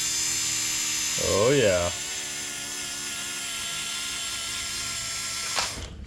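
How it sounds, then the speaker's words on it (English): A steady, thin electric whine from the fuel pump of a 1987 Acura Integra with a K-series engine swap, running continuously nearby, with a brief spoken remark early on and a short click near the end. "Okay, we're ready to test the fuel pump."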